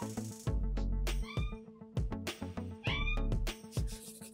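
A cat meows repeatedly at close range, a string of loud, varied calls, some drawn out and rising, with short pauses between them and no one speaking.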